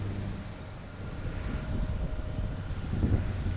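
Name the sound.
PAL Airlines turboprop plane taking off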